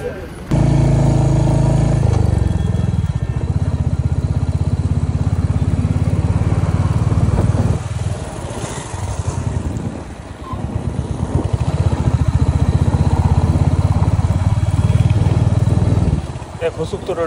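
Motorcycle riding along a small toll-free path beside a highway between New Delhi and Chandigarh, a steady loud close engine drone with wind buffeting that dips briefly midway, with a voice talking over it.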